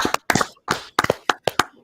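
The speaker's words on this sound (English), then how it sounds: "Dr. Smith, clapping it right there" Dr. Smith claps his hands in a quick, uneven run of sharp, close claps, sometimes in pairs, with short pauses between bursts.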